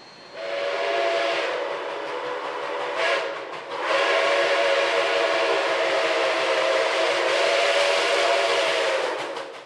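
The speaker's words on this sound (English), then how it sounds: "While it's unusual to see a large steam locomotive like 844 operating, it's not the only one to do so." Union Pacific 844, a large steam locomotive near Portland, Oregon, sounds its steam whistle in loud, sustained chime blasts. A brief break comes partway through before a long second blast, with railway rumble beneath.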